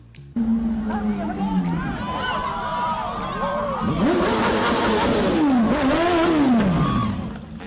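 A red BMW motorcycle engine revs and rumbles through a noisy crowd of protesters staging a die-in in San Francisco, with shouting voices and rising, falling engine pitch throughout.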